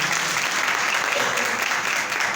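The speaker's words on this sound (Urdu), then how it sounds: "ذرا زوردار تالیاں خداوند کے لیے بجائیں" A church congregation applauds loudly and continuously in a dense, sustained wash of clapping, with voices mixed into the crowd noise.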